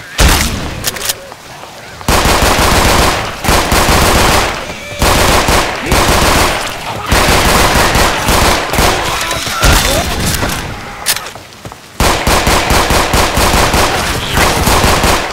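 Blacktail handgun from Resident Evil 4 Remake, modded into Left 4 Dead 2, fires in loud rapid bursts of gunshots separated by short pauses and reload gaps, with faint game voices in the mix.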